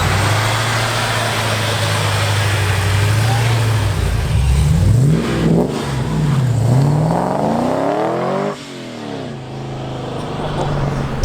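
An 800hp Pontiac WS6 Trans Am accelerates hard from inside the car, its engine note climbing loudly through the revs in repeated rising sweeps broken by gear changes, with a roaring drop-off near the end.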